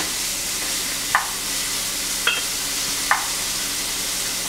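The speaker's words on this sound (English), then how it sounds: "So what I'm doing is just softening the vegetables." Vegetables soften in a hot pan with a steady, even sizzle, broken by three short clinks of a utensil stirring against the pan, close and without talk.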